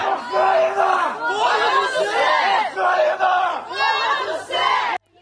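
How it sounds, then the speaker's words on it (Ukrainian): A crowd shouts and cheers as buses bring freed prisoners of war to a hospital grounds during a prisoner exchange, loud overlapping voices rising in repeated waves and stopping abruptly near the end. "Натовп кричить та вітає одне одне."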